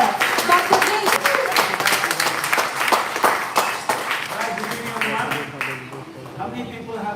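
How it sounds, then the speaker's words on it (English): Audience applause greets a keynote speaker at a live workshop event, dense clapping filling the room for several seconds before thinning out, with some voice mixed in near the end. "let's give a huge round of applause and a warm welcome to our founder, our mentor, and today's keynote speaker, Dr. Jaison"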